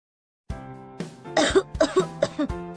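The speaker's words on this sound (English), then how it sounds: "Since evening, I'm coughing a lot." Repeated harsh coughing fits up close, several quick coughs in a row over a steady background hum, with no speech.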